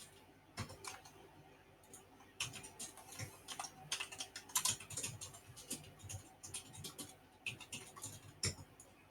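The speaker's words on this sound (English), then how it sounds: "Heavy mechanical keyboard typing." Heavy typing on a mechanical keyboard, close and loud, with dense irregular bursts of sharp key clicks and clacks and short pauses between flurries.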